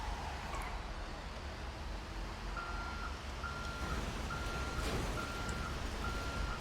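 A truck backing up gives a steady series of evenly spaced reversing beeps, five or six pulses at a moderate distance over a constant street and wind rumble, with no talking.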